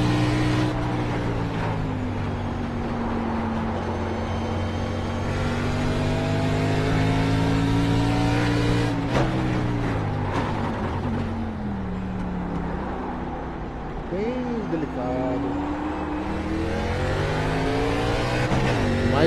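Race car engine in iRacing, a NASCAR stock car lapping Sonoma, loud and continuous, revving up and down through gear changes with rising and falling pitch, a sharp shift near the middle, no talk.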